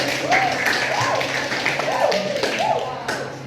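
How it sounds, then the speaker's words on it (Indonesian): Classroom applause for a female student, a brief burst of children clapping with bright, close hand claps, while voices chatter over it. "Tepuk tangan untuk Mbak"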